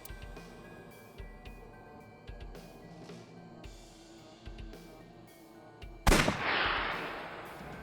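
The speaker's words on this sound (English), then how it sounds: "I'll try shooting it." A single sharp gunshot cracks out loud and close in AI: The Somnium Files, ringing into a short decaying tail after a few faint clicks and thumps.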